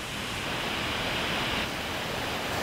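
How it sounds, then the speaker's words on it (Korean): Biryong (Changbai) waterfall on Baekdu Mountain, carrying the water of Heaven Lake, gives off a steady, dense roar of falling water, broad and unbroken, with no voices. "비룡 폭포를 통해 중국의 송화강으로 흘러드는 천지의 물"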